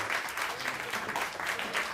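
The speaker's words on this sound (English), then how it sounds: "Give a round of applause for Moriah, Jamie, Matt, Barry, and where's Rachel?" Steady applause from an audience at a klezmer jam and concert, honouring the event's staff; moderate and continuous for the full two seconds, with no voices over it.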